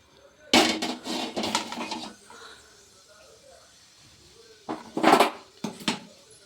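Transferring fried food from a pan into a bowl in a home kitchen, with metal pan and utensil clatter in short bursts near the start and end, louder clanks separated by quieter scraping; no talking.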